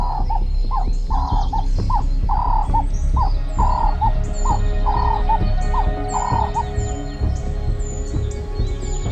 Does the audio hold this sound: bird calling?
yes